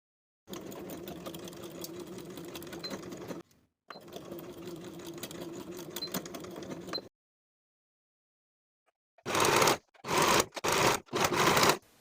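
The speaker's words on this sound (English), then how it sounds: "Sew the side edges with a 3/8 inch seam allowance." A sewing machine stitches the side seams of a blouse pocket in two steady runs of about three seconds each, followed after a pause by several short, louder bursts, with no talk.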